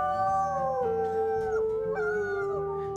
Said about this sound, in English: That's the third howl he's done.